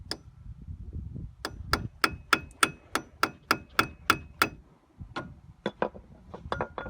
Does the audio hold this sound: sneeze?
no